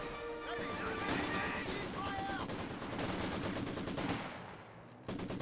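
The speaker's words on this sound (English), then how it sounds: "Volksgrenadiers getting suppressed there by the Vickers, and does manage to force them both back with a nice little burst." Vickers machine gun in a Company of Heroes 2 battle fires rapid rattling bursts, sharp repeated reports packed tightly across several seconds amid other battlefield noise, moderately loud, with some voice-like chatter beneath.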